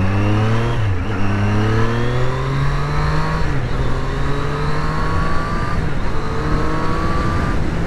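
A Triumph Street Triple RS motorcycle engine revs loudly and close while riding, pitch climbing through the gears with brief dips at each shift.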